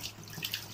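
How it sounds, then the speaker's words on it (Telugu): A kitchen tap runs steadily while a lobster is washed under it, producing a brief, soft, continuous splashing of water in a sink. "ఓకే ఒకసారి ట్యాప్ ఆన్ చేసి"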